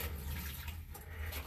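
Water running from a pipe line, a steady close rush with a broad hiss and low rumble that fills the whole moment without a break, no talk.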